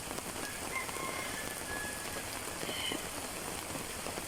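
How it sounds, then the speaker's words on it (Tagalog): Heavy rain pours steadily in a dense, even hiss, with no pauses or voices. "Ay, lumakas yung ulan."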